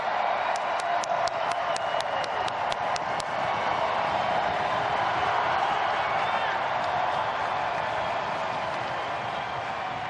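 Hockey fans roar and cheer in an arena at a Calder Cup Finals Game 7, a dense sustained crowd din with a burst of sharp claps and whoops early on, loud and continuous throughout.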